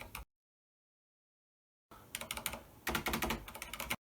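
A Corsair K70 MK.2 gaming keyboard is typed on close up after a brief silence, its fairly quiet keys giving rapid, uneven bursts of clicks that speed into a dense flurry.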